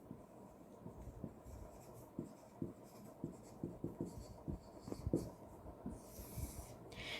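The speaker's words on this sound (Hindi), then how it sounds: "तो हम यहाँ लिखेंगे गुड्स रिटर्न्ड बाय विपुल" Pen scratching across paper while entries are written into an accounting journal, a steady run of soft, close strokes and taps with brief pauses between them.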